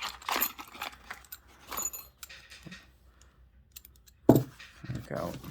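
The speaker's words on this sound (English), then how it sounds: "Oh, there's another set of keys." Metal keys from Anchor Lås 820-2 disc detainer lock packages jangle and clink in short bursts as they are handled up close, with a louder rattle near the end and faint talk in the background.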